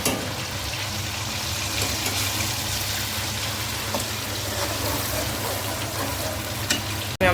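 Onions frying in hot oil for chicken karahi: a continuous, dense sizzle and crackle close by, steady throughout, ending with a brief clatter.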